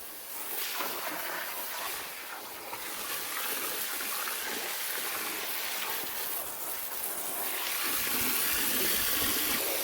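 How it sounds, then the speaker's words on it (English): Power nozzle spraying water, a continuous broad hiss and splash, close and moderately loud, swelling and easing slightly, with no talk. "This is the best power nozzle I've ever seen."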